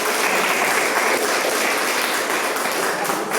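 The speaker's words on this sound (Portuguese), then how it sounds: "Vamos dar uma salva de palmas bem forte para o Eterno." A church congregation claps in loud, dense, sustained applause with a few faint voices mixed in.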